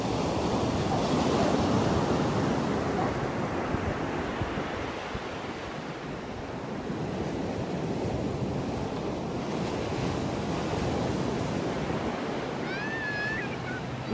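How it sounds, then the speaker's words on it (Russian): Atlantic Ocean surf breaks steadily on the beach at Zandvoort in the Netherlands, a loud, continuous wash of waves mixed with wind rumbling across the microphone. "разлив волн такой же широкий, как и на океане"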